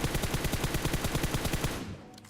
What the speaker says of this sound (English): When you see an enemy while you're driving vehicle, you can swap your seat and start shooting